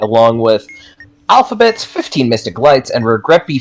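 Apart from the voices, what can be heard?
None of the usual background noises is heard.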